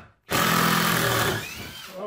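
Power drill backing screws out of wood, a single loud burst of high motor whine and grinding that starts abruptly and tapers off after about a second.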